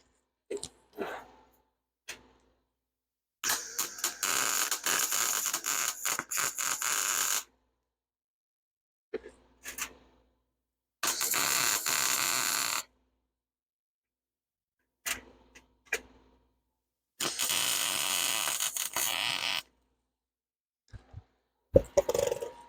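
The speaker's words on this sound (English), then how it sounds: "Let me get this welded so I can get the next pieces." Welding of metal pieces for a garden art flamingo sculpture, heard as several harsh crackling, buzzing bursts of a few seconds each, close and loud, separated by silences and short clanks.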